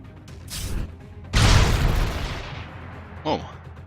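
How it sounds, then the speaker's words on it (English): A heavy explosion bursts in the Star Wars: The Old Republic game Shadow of Revan, a loud broadband boom that decays over about a second, preceded by a short whoosh and followed by a smaller pop. "explosion sounded pretty bad"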